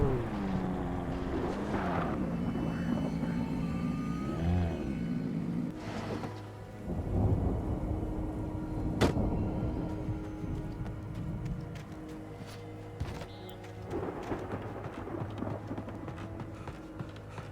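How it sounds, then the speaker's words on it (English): Thunderstorm in the video game Alan Wake: heavy rumbling thunder rolls and cracks over steady rain, loud and continuous, with sharp strikes punctuating the downpour. "that storm we all felt coming is finally here"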